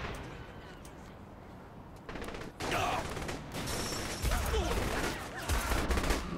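Gunfire in the video game Saints Row The Third, bursts of shots and impacts growing louder and busier partway through, with game noise and faint talk underneath.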